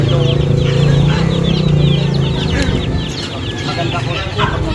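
Chickens and roosters clucking and calling at a busy animal market, a dense layered chorus of nearby fowl with a long sustained call at the start, people talking faintly underneath.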